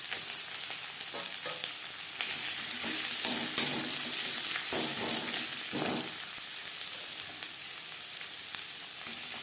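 Onions frying in hot mustard oil in a pan, a loud continuous sizzle and crackle with a few utensil stirs breaking through, no voices.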